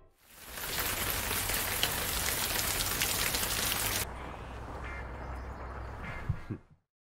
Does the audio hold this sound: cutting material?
no